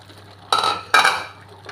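Yam pieces dropped into a metal cooking pot for a Kerala erissery with pumpkin and beans, giving two clattering clinks close by with a faint third at the end, and no talk.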